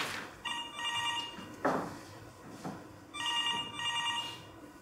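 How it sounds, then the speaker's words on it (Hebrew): An office telephone rings in two bursts of a repeating electronic trill, close and clear, with brief handling clatter between the rings. "הטלפון מצלצל."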